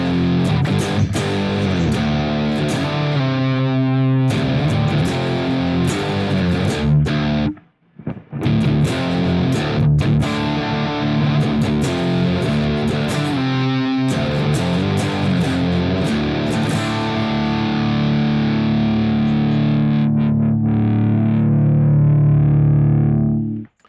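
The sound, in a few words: electric guitar through BIAS amp simulation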